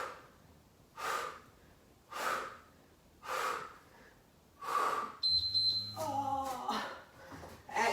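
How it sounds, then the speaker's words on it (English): Heavy rhythmic breathing during a yoga HIIT workout, with strong exhales about once a second, close to the mic, followed by a thin electronic beep and rougher breaths at the end. "Good, keep breathing."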